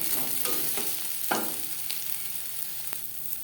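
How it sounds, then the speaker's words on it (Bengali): Sliced okra crackles in hot oil as it crisps, a continuous near sizzle punctuated by several light scrapes and taps of a spatula turning it in the pan. "ক্রিস্পি করে ভেজে নেব"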